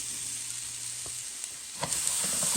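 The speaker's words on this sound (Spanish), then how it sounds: "agregar la cebolla, el chile jalapeño y el tomate" Onion, jalapeño and tomato go into a hot pan for Mexican red rice, a continuous hissing sizzle that grows louder and crackles more toward the end as the vegetables hit the oil, close up, no talking.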